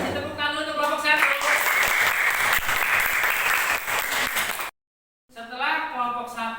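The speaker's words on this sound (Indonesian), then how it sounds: "kasih tepuk tangan dulu untuk kelompok 1." Classroom applause from students for a student group after its presentation, loud and continuous for several seconds, followed by a brief silence and then voices talking.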